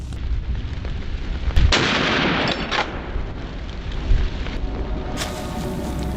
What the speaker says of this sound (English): startled by the gunshot